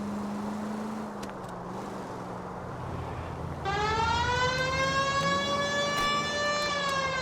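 Police-style car sirens in the L.A. Noire video game, a low wail under steady engine rumble, then a loud, sustained multi-tone siren joining partway and holding to the end.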